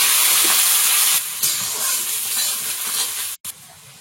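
Chopped onion frying hard in hot oil in a kadai for chicken biryani, a loud, dense sizzle filling the whole clip, easing slightly midway and cutting out briefly near the end.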